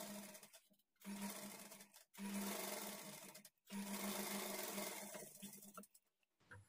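A sewing machine stitches the lining of a blouse in three close, steady whirring runs, each cut by a brief stop, with no talking.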